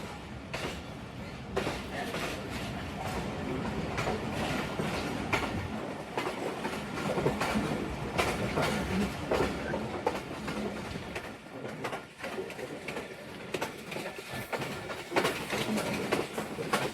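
Passenger train on a Narowal line pulling away from Daud, a small flag station, with steady clickety-clack of wheels over rail joints and rolling carriage rumble heard from onboard, continuous and moderately loud.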